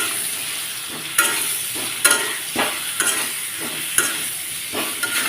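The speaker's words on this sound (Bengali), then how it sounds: "একটু হলুদ গুঁড়ো দিয়ে ভালোভাবে আর একটু ভেজে নিচ্ছি" Mango pieces fry with turmeric powder in a pan, a constant bright sizzle broken by sharp scraping stirs of a spoon roughly every second, close and loud with no voices.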